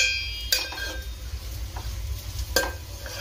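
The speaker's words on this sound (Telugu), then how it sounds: "అదే కడాయిలో 2 టేబుల్ స్పూన్ల ఆయిల్ వేసి ముందుగా కట్ చేసి పెట్టుకున్న ఉల్లిపాయ పచ్చిమిర్చిని బాగా వేసి దోరగా వేయిస్తూ ఉండాలి." Onion and green chilli fry in two tablespoons of oil in a kadai, giving a soft, steady sizzle with two sharp metallic spatula knocks against the pan.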